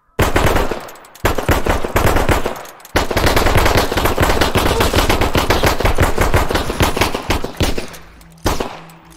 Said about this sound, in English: a Gatling Gun